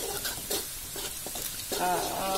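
Shallots and garlic fry in a pan for a banana blossom stir-fry, a close steady sizzle with a few stirring scrapes and a brief tonal clink near the end.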